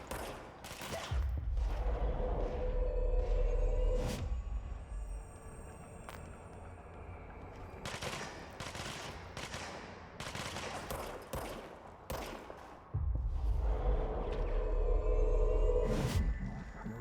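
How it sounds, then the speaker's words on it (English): Gunfire in the Control video game: bursts of shots in clusters, some heavy with deep booming impacts, broken up by quieter gaps filled with ambient game sounds. "who's shooting me?"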